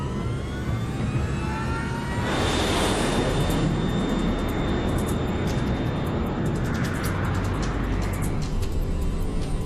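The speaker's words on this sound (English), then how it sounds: "LAM 470, you are cleared for takeoff." A LAM Mozambique Airlines airliner's engines spool up for takeoff from Maputo, a steady loud roar that swells sharply after a couple of seconds and then holds as a broad, continuous rush with a thin high whine.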